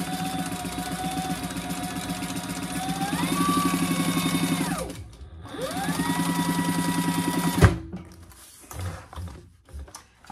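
A sewing machine runs steadily as it stitches fabric, with a loud, close whirring hum that rises in speed, dips and picks up again, then stops abruptly before a few quieter handling clicks.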